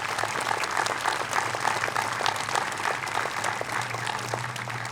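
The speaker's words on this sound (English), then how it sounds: "Please join me in giving them a warm round of applause." Warm audience applause at an outdoor Memorial Day ceremony honoring local police, fire and EMS crews: sustained, even clapping from a fairly distant crowd over a low steady hum.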